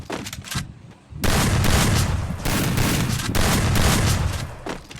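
Rapid gunfire in the Free Fire mobile shooter, loud clustered bursts of shots in two long volleys after a few sharp single reports, with no voices.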